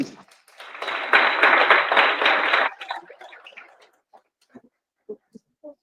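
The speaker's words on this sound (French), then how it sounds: "À vos applaudissements." Applause from an audience at a community launch evening in Casselman, a dense burst of clapping lasting under two seconds, then scattered isolated claps and a voice as it dies away.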